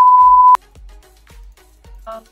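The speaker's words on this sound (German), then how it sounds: "Und an dieser Stelle war jetzt ein Piepston" Sharp, loud censor beep, a single steady tone held for about half a second and then cut off abruptly, followed by quiet low thumps and a brief voice fragment.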